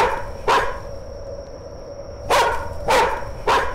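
A dog out on a nighttime walk barks four times: one sharp bark, a pause, then three quick loud barks close by over a faint steady background tone, with no talking.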